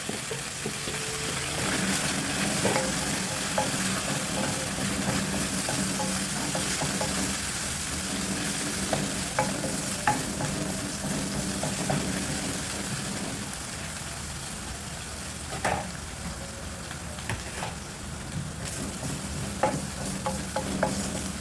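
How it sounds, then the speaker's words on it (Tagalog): Garlic sautés in oil in a pan for a chicken and vegetable stir fry, a steady close sizzle with occasional stirring scrapes and taps throughout, no voices. "Igisa natin yan hanggang sa maging golden brown yung ating bawang guys."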